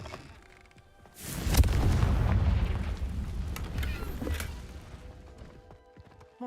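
A Confringo blasting spell exploding in Hogwarts Legacy: a sudden loud boom that rolls on as a long rumbling blast, then fades back to quiet.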